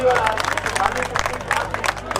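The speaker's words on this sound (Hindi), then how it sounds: "और जोरदार तालियां।" A crowd at a rally of student-helper and panchayat-assistant workers claps loudly, rapid uneven hand claps with murmuring voices and babble mixed in throughout.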